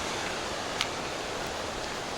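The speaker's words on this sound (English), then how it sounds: "Water running beside us. It just sounds so nice." Creek water flows alongside a backcountry trail in Colorado, a continuous near hiss of running water with one small click partway through and no talking.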